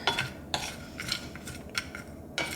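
Chopped nuts stirred in a pan while toasting, with a spoon scraping and clinking against the pan in irregular strokes, close and fairly quiet, with no voices.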